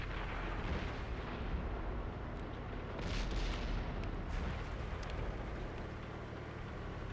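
Tank cannon fire and explosions from the World of Tanks game on PS4 form a dense, rumbling barrage, with deep booms and sharp blasts layered over constant heavy noise throughout.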